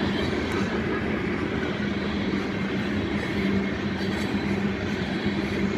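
A southbound BNSF loaded coal train, locomotive #8474, rolling past with a continuous heavy rumble and rattle of freight cars, a brief faint squeal of wheels, and no voices.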